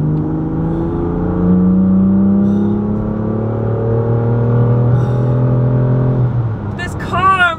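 A BMW M2 Competition coupe's engine drones steadily and loudly, its pitch gradually climbing under acceleration, with a brief higher burst near the end.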